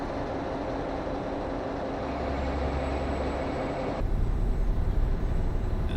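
Steady low rumble of a 285 horsepower Mack truck engine driving in American Truck Simulator, a continuous drone that swells slightly louder near the end, with no talking.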